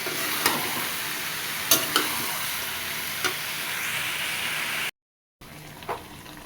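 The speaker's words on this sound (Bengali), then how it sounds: "এখন ভালো করে মাংস দিয়ে মশলা দিয়ে ভেজে নিই।" Meat and spices fry in a pan with a steady, close sizzle, punctuated by a few sharp scrapes and clinks of stirring, then a brief gap of silence before the sizzling resumes.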